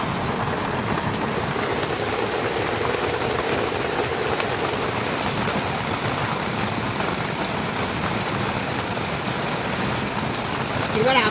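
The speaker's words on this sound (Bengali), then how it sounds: "কিন্তু বৃষ্টির আওয়াজ পাওয়া যাচ্ছে," Steady rain falling outside a home kitchen, a continuous hiss of drops on surfaces at moderate volume that stays even throughout with nothing else prominent.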